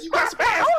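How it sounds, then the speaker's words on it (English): A dog gives two short, close yips or barks, each about a tenth to a third of a second long, with a brief quiet gap between them. Casual talk can be heard around the barks. "that was a dog"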